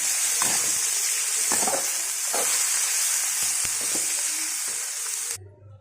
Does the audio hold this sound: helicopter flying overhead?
no